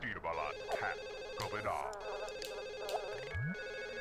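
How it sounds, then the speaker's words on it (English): A telephone rings in The Sims on PlayStation 2, repeated electronic trills at a moderate level over burbling game voices and soft background sounds. "Go get the phone."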